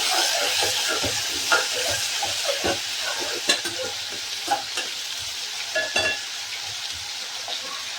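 Onions frying in a pan are stirred with a spoon, a steady sizzle under irregular scraping strokes and a few sharper clinks against the metal, close and fairly loud with no talking.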